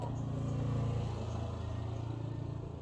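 Motorcycles pass by outside a house on a Sunday, a steady mid-pitched engine drone that swells slightly and then holds, with no voices over it.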